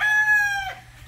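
A rooster among chickens and pullets crows loudly and close by, the end of one drawn-out crow that fades after under a second, followed by faint background noise.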